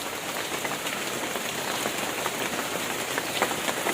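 Rain pours steadily on surfaces nearby, a dense even patter with occasional heavier drops, and nobody speaks.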